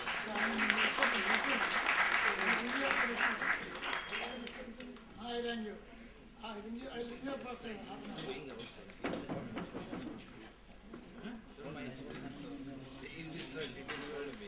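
Applause from the audience at an award ceremony in New Delhi rolls as a dense burst for about four seconds, then thins out while a voice talks over the hall's lingering clatter.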